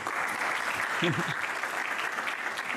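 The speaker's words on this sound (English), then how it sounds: "Linda, can everyone just give a round of applause?" Steady applause from a conference audience during closing remarks, thanks directed to organizer Linda, with a short voice audible briefly in the middle.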